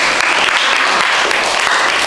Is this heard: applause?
yes